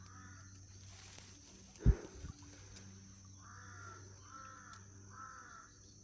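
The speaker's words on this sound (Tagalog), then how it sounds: "Bakit marami mga uwak dito?" Crows caw in a series of harsh calls, three evenly spaced toward the end, at a moderate distance over faint background hum and a brief thump.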